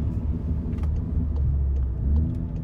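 A 2018 VW Golf R MK7.5 with a Stage 1 tune hums steadily in second gear just below 3,000 RPM, a low, even engine drone heard from inside the car.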